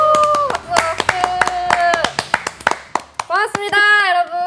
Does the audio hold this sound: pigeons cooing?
no